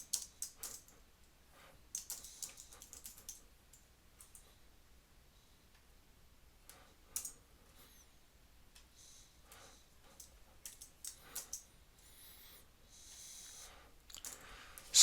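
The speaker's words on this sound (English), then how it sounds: "I'll explain it, I'll type it out, and then explain it in detail." Someone types code on a computer keyboard, producing irregular clusters of light, close key clicks with short pauses between bursts, quiet and without talk.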